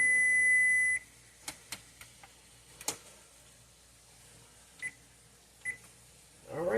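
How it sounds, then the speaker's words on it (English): A kitchen timer gives one steady electronic beep lasting about a second, then short scattered beeps and clicks as its buttons are pressed, faint in a quiet kitchen. "Now let's set the timer again for another 5."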